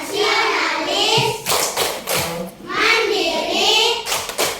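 Rhythmic classroom clapping chant from a third-grade Indonesian class: young voices chanting in unison, broken by crisp groups of synchronized hand claps.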